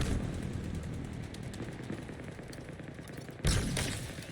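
Gunfire in Halo Infinite Big Team Battle, a quiet, steady stream of distant automatic shots and bursts that swells into a louder, closer exchange near the end, with no voices.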